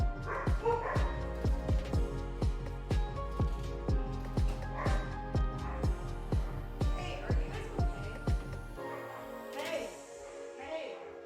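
Several dogs bark and yip in a steady, repeated rhythm, loud and close, over a constant low hum, before breaking off near the end.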